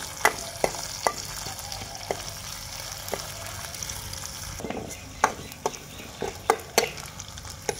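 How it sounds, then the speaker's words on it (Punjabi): Chopped onion sizzles in a hot pan as the base for a Punjabi rice dish, a constant frying hiss broken by sharp spoon clicks and scrapes of stirring throughout. "ਥੋੜ੍ਹਾ ਜਿਹਾ ਗੰਢਾ ਭੁੱਜ ਗਿਆ ਫਿਰ ਆਪਾਂ ਟਮਾਟਰ ਪਾਵਾਂਗੇ।"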